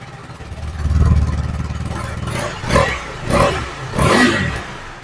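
Exhaust of a 2023 KTM Adventure 390 X motorcycle: a low idle rumble swells, then three short throttle blips rise and fall in quick succession, close and fairly loud.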